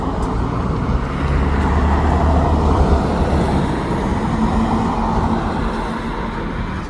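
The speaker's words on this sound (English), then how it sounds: "The car's going by, of course" Car driving by on a road along the Guadalupe River, a loud broad rush of tyre and engine noise that swells early and then eases into a steady roadway roar.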